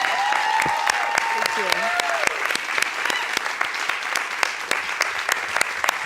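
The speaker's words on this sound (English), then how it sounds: "Can we have another round of applause?" Audience applause at a talk at the Global Truth Center, a steady patter of clapping from a modest crowd lasting about six seconds, with a few voices and whistles mixed in.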